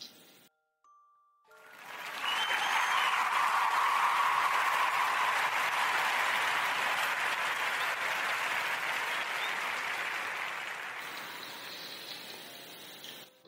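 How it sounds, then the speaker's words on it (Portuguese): A sustained round of applause from an audience, dense steady clapping that swells in after a short silence, holds for about nine seconds, then gradually thins out. "Quero pedir, mais uma vez, uma salva de palmas,"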